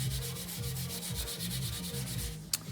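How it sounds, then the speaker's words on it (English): A cloth soaked in alcohol is rubbed back and forth over the rusty metal fender of a Honda CB350, making a steady, rhythmic scrubbing with a brief sharp knock near the end. "You have to wipe in the same spot until you get the surface rust off."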